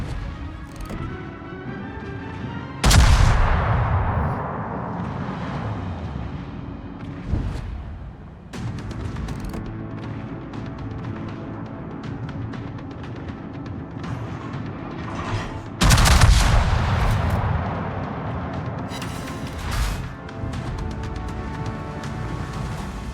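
Naval guns firing during a World of Warships battle between low-tier cruisers and battleships, with two big booming salvos and a sustained rumble of engine and ambient battle noise filling the gaps.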